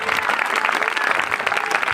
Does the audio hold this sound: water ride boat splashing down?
no